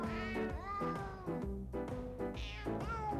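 Christmas recording of cat meows pitched into a melody, a run of loud, clear sung-sounding meows rising and falling in tune over a musical backing.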